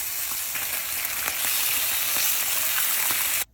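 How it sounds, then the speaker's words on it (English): Bacon sizzles steadily in a pan with a dense, even crackle and scattered small pops, close and constant until it cuts off abruptly near the end. "you're just gonna prepare some bacon"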